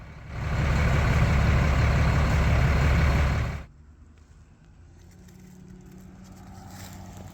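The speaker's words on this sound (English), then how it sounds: "a different truck showed up to haul away the large logs from the trunk of the tree" Heavy truck engine arriving on site to haul away large tree-trunk logs, loud and close for a few seconds before cutting off abruptly to a low, quieter idle.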